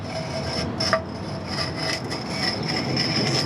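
Carving a rock for a bonsai rock planting, a steady rasping, grinding scrape against stone running continuously at close range, with one brief sharper knock partway through.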